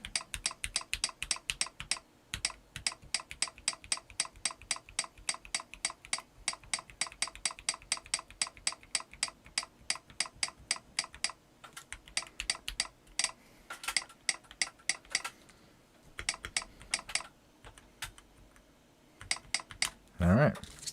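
Rapid typing on a newly built CIY GAS67 mechanical keyboard, dense runs of crisp clacking keystrokes with brief pauses, close and fairly quiet, with a louder burst of handling noise at the end.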